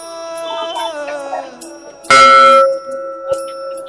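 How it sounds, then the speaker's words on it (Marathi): A large temple bell is struck once at a Dattatreya temple, a loud metallic clang with a long ringing tone that decays over more than a second, heard after softer earlier bell-like tones. "मंदिराच्या सुरुवातीलाच फार मोठी घंटा आहे, पण ती घंटा वाजूयात"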